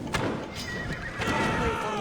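A horse neighs and hooves clip-clop in the Assassin's Creed Odyssey video game as guards ride up on horseback. The loud whinny rises over steady galloping.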